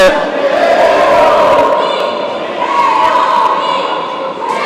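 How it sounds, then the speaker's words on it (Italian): Futsal supporters in the stands of a Tuscany versus Veneto match chant together, a steady, loud crowd chorus with sustained voiced tones swelling and easing slightly over the few seconds. "suona più forte che mai il coro dei tifosi sugli spalti"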